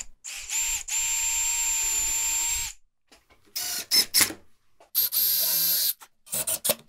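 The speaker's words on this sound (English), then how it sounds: "To drill the pilot holes, I'll use this countersink bit with a depth stop." An electric drill with a countersink bit and depth stop boring pilot holes in shop cabinet panels, several separate high whirring bursts, the first long and steady, later ones shorter, heard close up with no talking.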